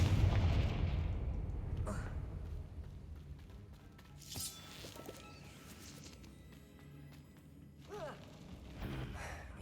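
A Confringo spell explosion in the video game Hogwarts Legacy, a deep booming blast at the start that fades into rumbling, followed by scattered softer impacts and whooshes.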